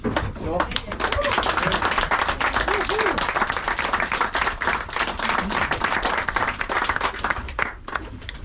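Applause for the captains at a sailing trip gathering, loud continuous clapping from a crowd lasting several seconds, with voices mixed in.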